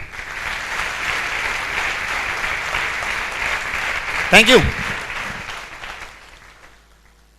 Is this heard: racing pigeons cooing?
no